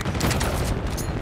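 A frag grenade goes off in a Call of Duty match, a dense, loud burst of rumbling blast noise with crackling, rapid sharp hits throughout.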